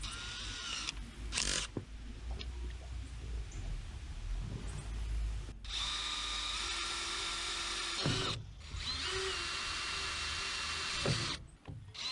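A power drill whirs in several sustained bursts with short pauses between, close by, drilling near an inflatable dinghy tube to mount lights, its motor pitch rising and falling under workshop clatter.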